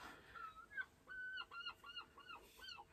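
Gull calls heard outdoors: a string of about seven short, nasal, honking cries in an uneven rhythm, moderately close but fairly quiet against a light background hiss.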